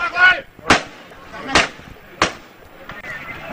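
Several sharp gunshots ring out during a police raid on a drug dealer in Johar Baru, four or five loud cracks spaced irregularly, with shouting voices mixed among them.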